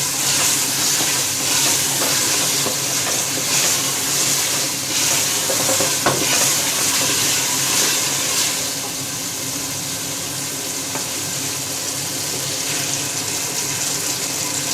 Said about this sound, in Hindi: अब हम इसके अंदर अरवी ऐड करेंगे। अरवी हमने ऐड कर दी है इसमें। इसको अच्छे से मिक्स कर लेंगे